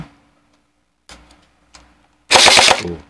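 A few faint clicks, then a short, loud burst of rapid-fire shots from an electric gel blaster pistol, close up.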